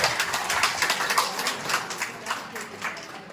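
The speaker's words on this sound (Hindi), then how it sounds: "एक बार धन्यवाद तालियों से इनका समर्थन।" An audience at a convention claps in steady, moderately loud applause, individual claps rippling through the crowd with some voices underneath.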